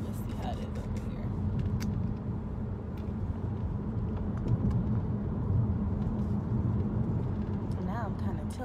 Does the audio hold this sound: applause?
no